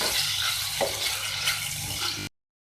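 One large tomato softens in a hot pan for chicken macaroni, producing a continuous close hiss and sizzle of frying, fairly even and dense, ending abruptly.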